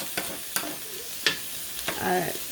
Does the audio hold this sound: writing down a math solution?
no